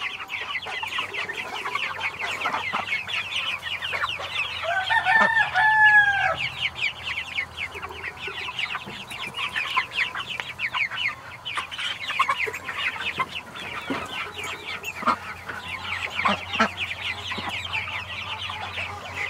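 Young roosters and a couple of hens on a homestead crow and cluck loudly and close by, with repeated calls and chatter continuing throughout amid outdoor ambience.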